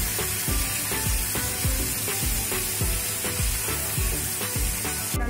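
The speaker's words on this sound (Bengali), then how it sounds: "দইটা ভালো করে মিক্স করে নিচ্ছি।" Yogurt is stirred into a pan of sizzling chhana kofta curry, giving a steady close frying hiss with regular spoon scrapes and clacks against the pan.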